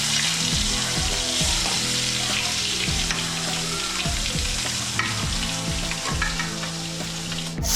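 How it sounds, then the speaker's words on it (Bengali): Shoal fish frying in hot oil for a Bengali potato broth, a loud continuous sizzle and crackle close by, with occasional scraping of a spatula in the pan. "শোল মাছ বেশি ভাজতে নেই, বেশি ভাজলে শক্ত হয়ে যায়। আমি হালকা হালকা করে ভেজে নেব।"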